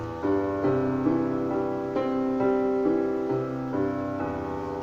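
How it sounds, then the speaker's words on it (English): A piano arpeggio climbs and falls with the sustain pedal held down, so each note rings on and blends into the next in a smooth, continuous wash of tone, close and moderately loud. "The only reason it is sounding nice is because I'm stepping on my sustain pedal."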